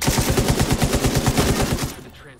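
Rapid automatic gunfire from The Division 2 rattles in a fast, even burst of loud shots for about two seconds before cutting off and leaving a short echoing tail.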